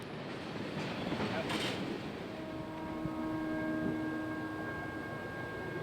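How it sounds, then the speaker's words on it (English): An eastbound freight train on the Chicago Fort Wayne and Eastern rolls past at Tolleson Junction, a steady broad rumble with faint tonal squeals from the wheels, continuous and moderately near. "as the eastbound makes their way to Hobart to tie down for the evening"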